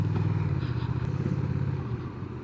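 Honda Rebel 1100 DCT motorcycle on the move, a low steady engine drone mixed with road and wind rumble, holding constant and fading slightly toward the end.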